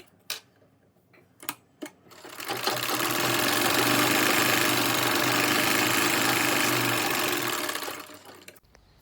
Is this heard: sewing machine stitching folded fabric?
yes